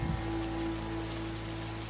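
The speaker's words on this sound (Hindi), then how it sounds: "इसी बीच तेज बारिश हो जाती है" Heavy rain pours steadily as a dense, continuous wash of noise, with a faint tonal hum running underneath and no voices.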